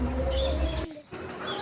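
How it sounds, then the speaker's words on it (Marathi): Birds chirp and coo in the aviary at Rani Bagh zoo in Mumbai, a steady layer of calls with a low rumble beneath that drops out briefly before the chirping resumes. "या ठिकाणाहून बाहेर पडत असताना मला पक्ष्यांची किलबिल ऐकू येत आहे"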